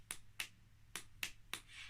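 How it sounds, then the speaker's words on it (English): Five crisp finger clicks ring out at a roughly even pace, close and distinct with quiet gaps between them. "Have you brought your clicking fingers?"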